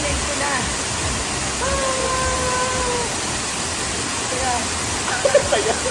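Rushing water at a waterfall in Davao, a steady broadband roar filling the clip, with faint voices and a few short splashes or clicks near the end.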